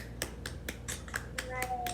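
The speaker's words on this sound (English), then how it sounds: "Everybody clap for Destiny." A class of children clapping for a student during an adjectives lesson, a run of light, evenly spaced claps, fairly faint, with a steady hum and a little speech underneath.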